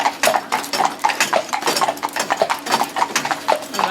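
A horse working in harness trots with steady clip-clop hoofbeats, an even quick rhythm of sharp strikes, close and clear with no talk.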